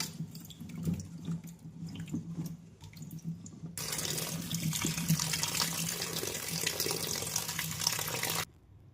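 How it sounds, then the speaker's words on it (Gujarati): Kothimba gourds are washed at home, first with splashing and dripping water, then under a steady loud rush of running tap water that cuts off abruptly near the end. "આપણે બધા જ કોઠીંબાને બે ત્રણ પાણીએ સ્વચ્છ સારી રીતે ધોઈ લઈશું"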